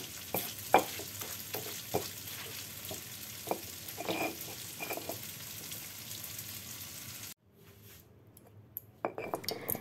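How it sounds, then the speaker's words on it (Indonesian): Hot oil left over from frying tofu is poured over a garlic chili sambal, giving a loud, steady sizzle with stirring and utensil clatter before it cuts off abruptly near the end. "Ini dia, saya pakai saya siramin minyak panas."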